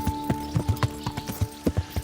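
Horse hooves clip-clop in a steady walking rhythm in a medieval video game, close and clear over a faint constant tone, with no voices.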